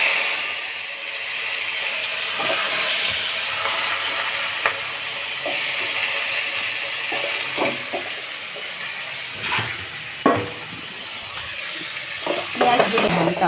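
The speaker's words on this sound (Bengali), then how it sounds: "এবার পেঁয়াজটা ভাজা হয়ে গেল" Onions frying in a kadai with spices and a little sugar, a loud continuous sizzle with intermittent scraping stirs and utensil taps.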